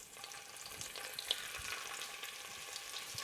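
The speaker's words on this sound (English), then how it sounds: "We're going to sear it for about 3 minutes per side, or until browned." Beef chunks for a Burgundy wine stew sear in a hot pan, giving a steady close sizzle with small pops and one brief sharp crackle, no talking.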